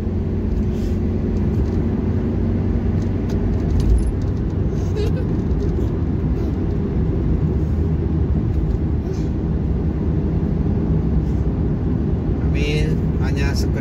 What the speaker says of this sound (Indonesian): hanya ada beberapa mobil saja yang melintas di jalan tol Jakarta ini